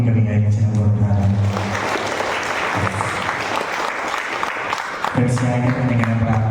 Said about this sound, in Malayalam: നമുക്ക് നല്ലൊരു കൈയടി നമുക്ക് വികാരിയച്ഛന് കൊടുക്കാറ്